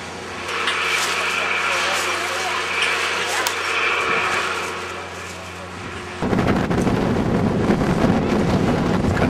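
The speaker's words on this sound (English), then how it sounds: "It's kind of a windy day today up here on the mountain." Strong wind buffets and roars across the microphone in uneven gusts on the summit of Mount Washington, New Hampshire, turning into a heavier, rougher blast toward the end.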